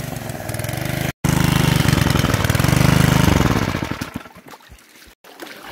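A gold-prospecting pump engine running out of fuel gives a loud, close, rattling drone that falters and thins out, with a couple of brief cutouts as it sputters toward stalling.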